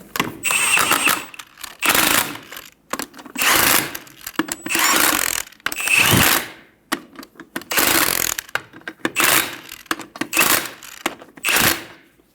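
Ratchet wrench snugging down strut bolts on a 2000-2007 Ford Focus gives loud, bursty clicking runs in about a dozen short bursts with brief pauses between, close up and with no talking.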